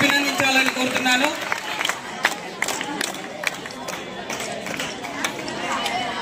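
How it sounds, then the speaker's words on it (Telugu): Audience at a kabaddi prize-giving ceremony claps for the winning and runner-up teams, a dense, steady crowd applause with scattered shouts and chatter throughout. "ఒకసారి గట్టిగా చప్పట్ల ద్వారా అభినందించాలని కోరుతున్నాను"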